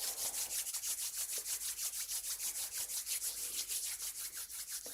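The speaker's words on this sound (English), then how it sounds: "Comfortable seated position, and just rub your hands together." Two hands rub briskly together in a steady back-and-forth rhythm during a seated Kundalini kriya, a quiet, close, dry swishing with no voices.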